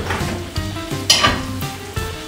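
Stir fry sizzling and being tossed in a pan at home, with a steady loud sizzle broken by rhythmic scraping and clanking strokes roughly every half second, close up and with no talking.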